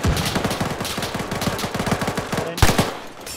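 Sustained close automatic gunfire sounds during a combined-arms military field training exercise, delivered as rapid rhythmic bursts, with a louder single shot near the end.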